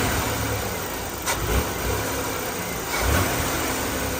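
A car engine in an automotive lab runs at a steady idle and is briefly revved twice as the throttle is worked, the two short swells rising over a broad, continuous engine roar.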